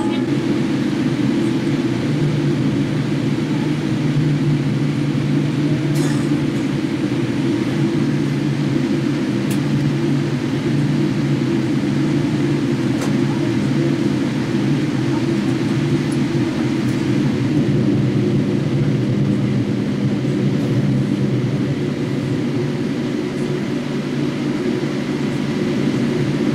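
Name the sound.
Jetstar Boeing 787-8 Dreamliner taking off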